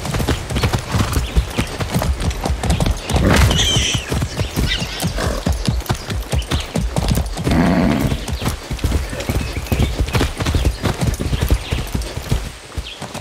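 Hooves pound in a fast, steady gallop from a horse in the video game Far Cry 6, close and loud, with a neigh partway through and occasional talk.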